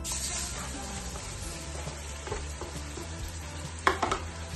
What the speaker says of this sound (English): I'm going to be adding my chopped onion